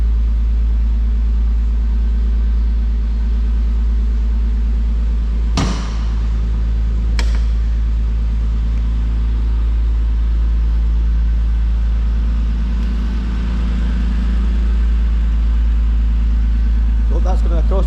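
A Porsche Boxster 987 with a 2.7 engine idles after a cold start, a steady low, even rumble close by. A couple of sharp knocks break in briefly, and there is no talk.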